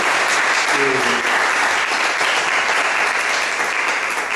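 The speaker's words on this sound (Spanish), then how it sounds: "yo creo que un aplauso para Diego." A seminar audience applauds steadily for several seconds, a dense even clatter of clapping from many hands with a brief voice at the start.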